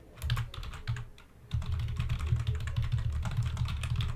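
Steady typing on a computer keyboard while composing text, close and clear with rapid clustered keystrokes, a brief lull near the start and then continuous dense clicking.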